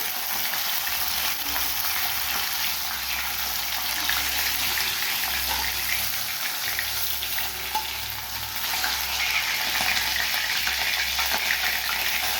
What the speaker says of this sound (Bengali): এই তেলটাতেই আমি একটু কালো জিরে ফোড়ন দেবো